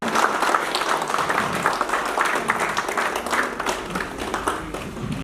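A crowd at a ceremony gives the guests a round of applause, steady dense clapping held at an even level throughout without letting up.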